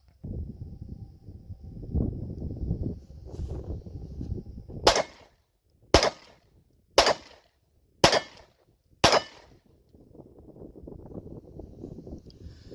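Five sharp gunshots from a Glock 26 pistol fired with a 10-round magazine fitted with a 2-round extension, evenly spaced about a second apart, loud and close, with wind and rustling outdoor background before and after.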